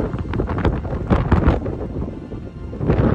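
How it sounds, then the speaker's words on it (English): Heavy wind on the north coast of Scotland buffets the microphone in low, rumbling gusts that swell and ease, loud and continuous. "It's so windy!"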